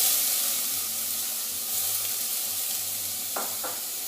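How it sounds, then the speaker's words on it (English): Diced red peppers sizzle steadily in a cast iron pan over low to medium heat, a soft continuous frying hiss with a couple of brief stirring scrapes near the end. "I'm going to put in 1/4 cup of diced red peppers"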